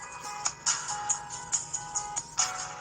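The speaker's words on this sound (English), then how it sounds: "I just had a message come across my phone" A phone chimes for an incoming message, a quick repeating pattern of bright electronic beeps, close and clear with no talk.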